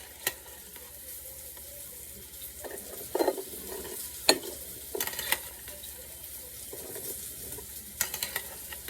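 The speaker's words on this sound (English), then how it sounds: "I think it's so crazy how the fries is still cooking." French fries frying in hot oil give a quiet, steady sizzle with faint crackles, broken by a few louder clinks and scrapes of a utensil against the pan.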